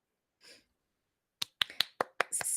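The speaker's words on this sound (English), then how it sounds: "So I'm clapping for myself." A single person clapping their own hands, six sharp, close, evenly spaced claps after a brief breathy sound and a pause.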